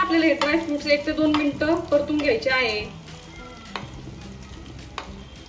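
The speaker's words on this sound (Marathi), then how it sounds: "आता तुपामध्ये आपल्याला सर्व ड्राय फ्रुट्स ऍड करून घ्यायचे आहे" Dry fruits fry and get stirred in hot ghee for sheer khurma, a soft sizzle with scraping spoon strokes in the first half that thins to quieter crackle, with a voice speaking over the cooking.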